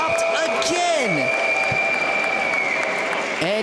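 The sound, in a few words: crowd whistling and cheering at para hockey game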